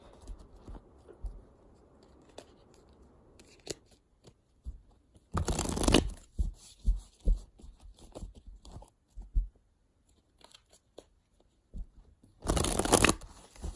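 Tarot cards being shuffled to pull clarifier cards: quiet close riffling and tapping with two louder bursts of card shuffling, scattered soft handling sounds between, no talk.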